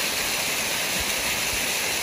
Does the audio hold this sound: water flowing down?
yes